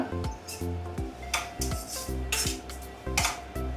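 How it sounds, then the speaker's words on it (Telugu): A spoon stirs salt and chili powder through radish pickle in a metal pan, giving repeated close scraping and clinking strokes in an uneven rhythm, with no one talking. "ఉప్పు కారం వేసాక ఇట్లా బాగా కలుపుకోవాలి"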